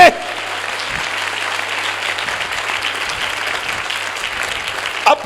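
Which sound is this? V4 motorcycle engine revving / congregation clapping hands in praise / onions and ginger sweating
congregation clapping hands in praise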